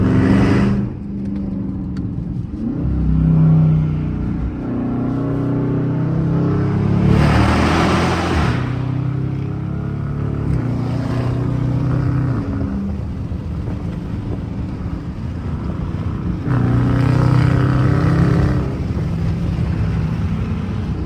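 Dodge Charger RT V8 revving hard on a drive, with loud close engine surges rising and falling through gear changes and a couple of sharp roaring bursts, heard from inside the car without talk.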